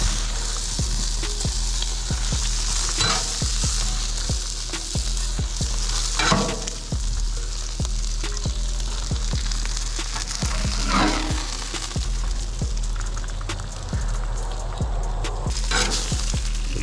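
Bacon frying on a flat-top griddle, a loud continuous sizzle punctuated by regular sharp scraping and tapping of a spatula against the metal surface.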